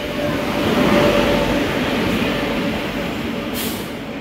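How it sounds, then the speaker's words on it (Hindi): An electric express train runs past an Indian railway station with a loud, steady rumble and roar, slowly fading, a faint whine riding over the rolling noise. "हो ये इलेक्ट्रिक एक्सप्रेस गाड़ी है"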